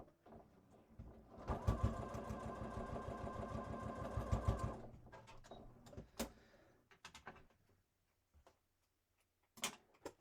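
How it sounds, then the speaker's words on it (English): A sewing machine runs a steady, rapid stitching burst across pleated fabric for a cross-body bag, stitching about an eighth inch from the edge, then stops, followed by a few quieter clicks and handling taps. "I'm going to go stitch just across those pleats"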